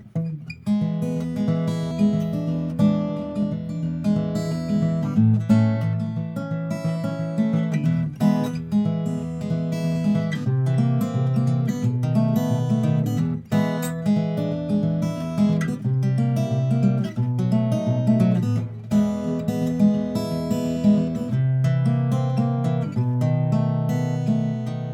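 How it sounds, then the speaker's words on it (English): Acoustic guitar fingerpicked in a swung alternating-thumb pattern, steady bouncing bass notes under plucked treble strings, played close and alone for the whole stretch. "if we swing that pattern, give it a little bounce, it starts to sound like this."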